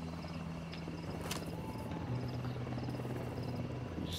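In Ghost Recon Wildlands, a helicopter drones steadily with a continuous rotor hum through the whole stretch, mixed with faint insect-like ambient chirps and no speech.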